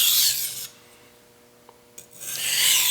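Shun Premier kitchen knife drawn across a 5000 grit whetstone with light single strokes: a loud rasping scrape, then a near-silent gap with two small taps, then a second long scrape.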